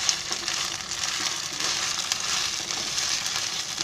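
Two spoonfuls of ginger-garlic paste fry in oil in a pan, a close, steady sizzle and crackle that runs unbroken throughout with no talking.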